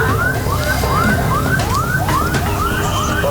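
Ambulance siren wailing in a steady repeating rising sweep, loud and close, sounding continuously over road noise on a street in Depok.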